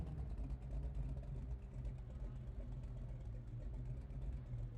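A cammed car engine in BeamNG.drive, street-tuned and running on pump gas, idles steadily with a deep, loping low rumble that carries on evenly throughout.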